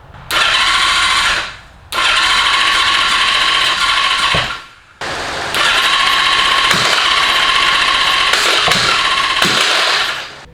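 A Honda CB650 cafe racer engine cranks over on its starter in three long, loud, steady whirring bursts, separated by short pauses, as it tries to fire but does not catch.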